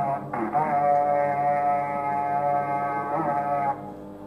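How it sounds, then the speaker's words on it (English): Minecraft's raid horn from the 1.19 Wild update, a sustained, droning goat-horn blast held steady for several seconds with a short break near the start, loud and alone with no talk. "that is the sound of the raid."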